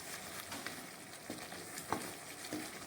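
Sliced onion being stirred into prawn sambal frying in a pan, a steady close sizzle with a few scraping utensil knocks against the pan.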